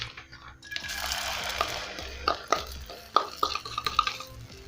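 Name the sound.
egg omelette mixture cooking in a hot pan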